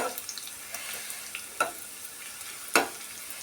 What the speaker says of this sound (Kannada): ಈ ಥರ ಒಗ್ಗರಣೆ ಕೆಂಪಿಗೆ ಫ್ರೈ ಮಾಡಿಕೊಂಡು ಹಾಕೋದ್ರಿಂದ ಟೇಸ್ಟ್ ಡಬ್ಬಲ್ ಆಗುತ್ತೆ